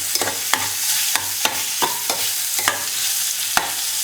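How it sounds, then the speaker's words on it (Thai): Sliced old ginger is stir-fried in a pan: about seven sharp spatula scrapes and clacks come at a brisk, uneven rhythm over a steady close sizzle, with no voices. "เอาขิงแก่นะครับที่หั่นไว้ประมาณ ห้าหกแท่นเนาะ ลงไปผัด ให้กันนะครับ"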